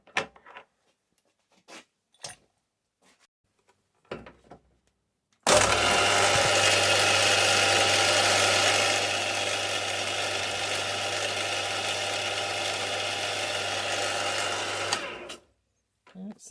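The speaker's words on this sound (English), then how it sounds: "So now we can drill the hole." Centre drill boring a hole in metal, a steady whirring machine hum that starts abruptly, runs for about ten seconds with a slight drop in level, then stops, with brief knocks before and after.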